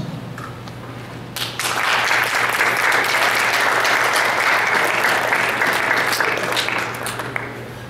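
Audience applause for teachers at a career panel, a steady wash of clapping that begins after a quiet moment, holds loud and even, then eases slightly near the end.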